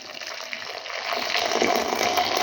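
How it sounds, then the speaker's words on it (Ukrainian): Freshly boiled kettle water pours into a measuring cup, a close, continuous gushing stream that grows slightly fuller and louder as the cup fills, with no speech over it. "закип'ятила в чайнику воду і просто в мірний стакан вливаю"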